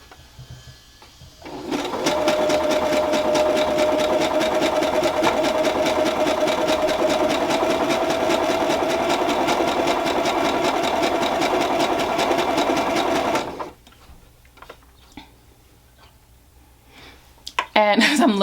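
Sewing machine stitching lace along a curved edge for a Kwik Sew K2325 pattern, running as a loud, steady whirring drone for about twelve seconds, then stopping abruptly, followed by quieter clicks and handling sounds.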